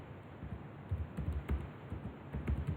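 Keystrokes on a computer keyboard typing a MySQL command, a quiet irregular patter of soft clicks with small bursts and short pauses, close by and with no voice.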